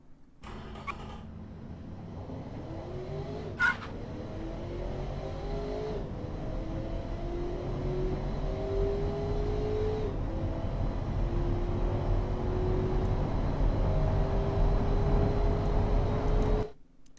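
A car with a 5-litre V8 in Automation accelerates hard from 0 to 200, the engine note climbing through several gear changes, each shift dropping the pitch before it rises again, loud and steady for about sixteen seconds.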